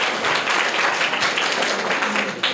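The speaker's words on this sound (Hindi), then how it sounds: "जोरदार तालियां हो जाएंगे" Steady, dense applause from a classroom audience rewarding a child's correct quiz answer, a continuous wash of many hands clapping at even loudness with no voices standing out.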